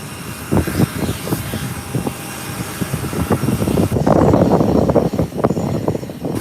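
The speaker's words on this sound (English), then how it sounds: "And yes, it's the ATR 72, Bahamas Air. Touching down." Bahamasair ATR 72 turboprop touching down at an airport, its engine drone and runway roar loud and close, swelling toward the end with rumbling bursts.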